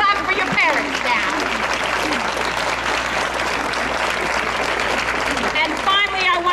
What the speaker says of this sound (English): You can clap for your parents now.